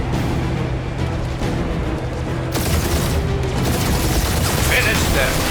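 Rapid gunfire and heavy booms in the Guardians of the Galaxy video game, sustained and loud across the whole stretch, with character voices calling out over the shooting.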